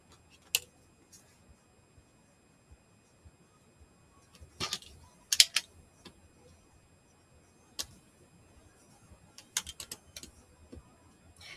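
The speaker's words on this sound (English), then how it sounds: "I'm going to cut a sliver off here." A blade cutting a sliver off paper along a ruler, with scattered faint ticks and a few sharper scraping clicks, close and quiet, spaced irregularly over a near-silent background.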